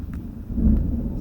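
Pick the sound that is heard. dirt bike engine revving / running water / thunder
thunder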